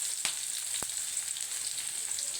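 Onion and green chillies fry in hot oil, giving a steady, soft sizzle with two brief taps of a utensil against the pan. Fairly quiet, with no one speaking.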